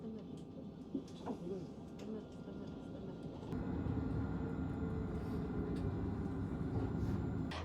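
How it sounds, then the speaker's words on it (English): A Nottingham NET tram, number 223, rumbles along from inside, a low steady rolling hum with faint rattles that swells louder and fuller partway through as it gathers speed. "I'm on the first tram, it's number 223, and this is actually my first ever time riding on one of these Nottingham trams"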